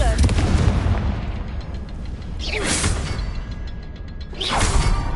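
The Confringo fire spell in Hogwarts Legacy: two loud whooshing fiery bursts about two seconds apart over a dense, continuous roar of game noise.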